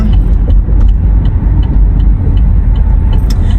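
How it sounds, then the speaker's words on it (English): Steady road traffic from inside a moving car on a busy freeway, a loud continuous low rumble of engine and tyre noise with a faint hiss of air brakes from nearby heavy vehicles. "this traffic is horrible."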